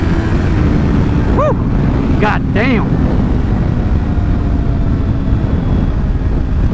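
A Kawasaki Ninja 400 motorcycle rides with a steady, loud engine roar and heavy wind rush throughout, rising whines sweeping up as it revs through the gears, with a short exclaimed voice in the middle.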